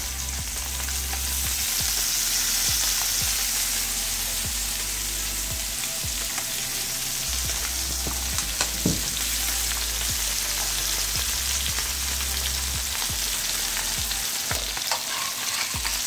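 Fish frying in oil, a loud, dense sizzle and crackle that continues steadily throughout, with repeated soft scraping and low thumps from the pan, no voices.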